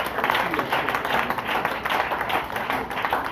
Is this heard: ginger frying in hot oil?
no